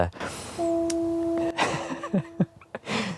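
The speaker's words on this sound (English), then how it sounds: "The foghorns today, crazy, just non-stop foghorns" A deep, steady foghorn blast sounds for about a second, then fades under a mix of nearby knocks and clatter, with the tone continuing faintly.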